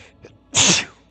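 A single loud, close sneeze bursts out alone after a few faint murmurs, sharp and breathy, during a Minecraft Dungeons gaming session.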